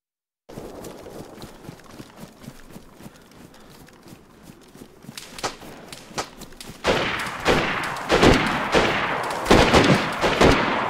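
Gunfire in the video game DayZ, a rapid series of sharp shots that grows louder and denser, with heavy bursts toward the end.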